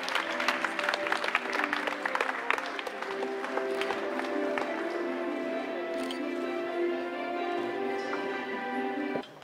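Applause at an awards ceremony, dense clapping early that thins and blends with music-like tonal sounds and room noise, holding steady before cutting off abruptly at the end.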